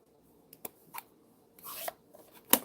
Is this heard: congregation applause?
no